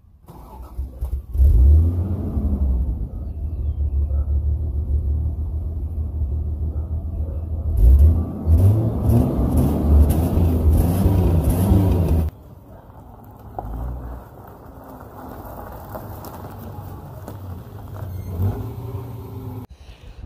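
A car's engine cranks and starts, then settles into a loud, close idle with deep rumbling revs rising and falling, drops to a quieter idle partway through, and picks up again toward the end.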